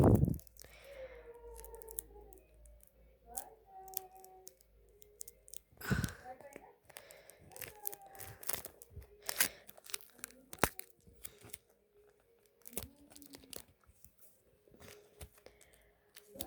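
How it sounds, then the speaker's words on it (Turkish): Close crinkling and ripping of plastic packaging being torn open with teeth, with scattered crunches and tugs, plus faint murmured speech in between. "Ağzımla kesiyorum."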